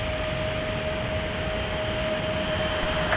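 Airbus A321 jet airliner at MSP airport in winter, a steady broad roar of engine noise with a faint high whine holding level throughout, no voices.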